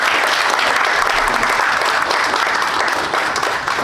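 A loud, sustained round of audience applause at a literary award ceremony for the Kim Jong-chul literary prize, steady clapping from a full room that holds throughout and eases slightly at the end.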